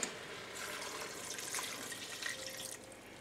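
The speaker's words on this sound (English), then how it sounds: "I'm going to add a cup of water." Water runs and splashes steadily from a cup into a pressure cooker pot at close range for a few seconds, then tapers off; no one speaks.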